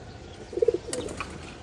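Domestic pigeons in a home collection give a short, soft cooing burst followed by a brief flutter or rustle, faint and close against a quiet background.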